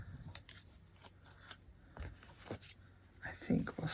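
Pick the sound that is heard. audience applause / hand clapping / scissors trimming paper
scissors trimming paper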